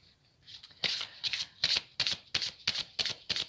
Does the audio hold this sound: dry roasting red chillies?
no